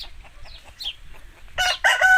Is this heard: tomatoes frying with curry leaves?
no